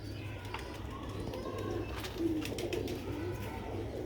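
Rooftop pigeons in Sialkot give low, soft, rolling coos in short repeated phrases against a steady background hum, with faint distant chirps.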